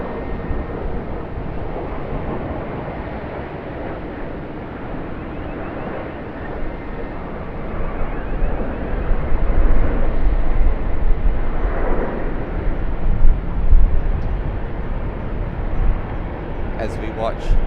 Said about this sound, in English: after this landing of a Qantas 737-800